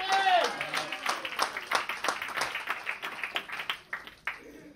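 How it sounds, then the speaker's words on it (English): A church audience gives a round of applause: scattered, fairly close hand claps in an uneven rhythm over several seconds, mixed with a few voices. "now all of you give a round of applause"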